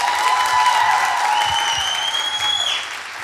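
A studio audience on a Tunisian TV singing show applauds a performer named Nadine, steady clapping filling the whole stretch with a tonal sustained note riding above and fading slightly at the end.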